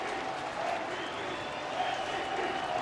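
A crowd of over 34,000 baseball fans at Comerica Park in Detroit, on their feet during a Mariners–Tigers game, keeps up a steady, dense roar of cheering and clapping throughout.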